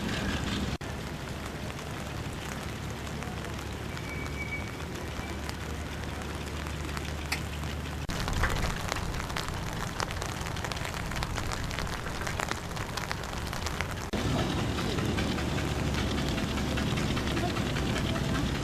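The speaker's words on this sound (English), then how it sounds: "The rain was putting some people off getting unloaded" Steady rain patters down across a rally campsite, a dense, even hiss that continues throughout with small shifts in intensity and no voices.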